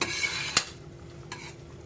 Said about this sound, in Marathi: थोडासा गरम मसाला घालूया. मिक्स करून घेऊ.